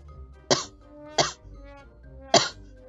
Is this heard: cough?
yes